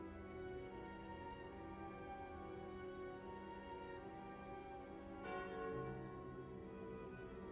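The bell curse card in the video game Slay the Spire tolls with a deep, sustained church-like bell that rings out and decays beneath soft game music, with no speech.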